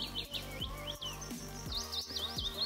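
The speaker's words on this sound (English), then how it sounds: "Birds singing in the trees." Birds chirp and tweet in quick, repeated high calls in the trees at a remote campsite over a steady low hum, close by and moderately loud, with no voices.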